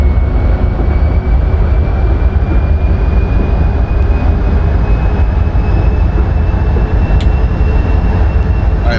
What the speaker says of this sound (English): This train really, really wants to go.